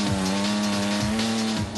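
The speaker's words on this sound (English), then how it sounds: "Teams, start your engines!" Race car engines roar loudly together at the start of a race, a continuous close droning whine with brief pitch dips and surges.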